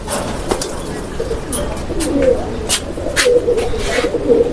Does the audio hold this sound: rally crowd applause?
no